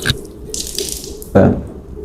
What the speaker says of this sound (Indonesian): ambil airnya, tumpahkan di wajah begini